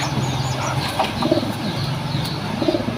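Female pigeons in a loft coo repeatedly at close range, a steady low murmuring with occasional wing flutters mixed in.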